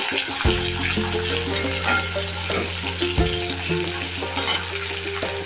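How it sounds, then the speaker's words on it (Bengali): Chopped onion fries in oil with cumin seeds and a bay leaf, a loud close sizzle punctuated by sharp utensil clinks and scraping stirs, with no talking. "একটা পেঁয়াজ কুচিয়ে রেখেছি দিয়ে দিলাম। এটাকে ভাজবো"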